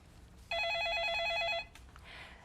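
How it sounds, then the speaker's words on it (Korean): An incoming call rings a telephone in a live stock-consultation broadcast studio: one electronic ring tone trills steadily for about a second, clear over a quiet background, then stops. "그 사이에 걸려온 전화 이어서 받아볼까요?"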